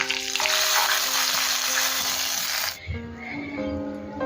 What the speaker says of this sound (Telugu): పోపు బాగా వేగిన తర్వాత ఇప్పుడు ఈ చారులో వేసేసుకుందాం